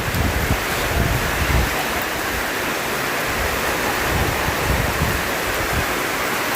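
Heavy rain pours steadily on a new roof and gutter, a dense hiss of drops drumming nearby with no voices, constant and loud throughout.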